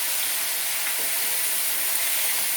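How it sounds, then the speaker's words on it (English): Onions sizzle steadily in a pan as they cook down for a fish masala, a continuous bright hiss with no talking. "A quick stir, and now I'm going to cook these onions down."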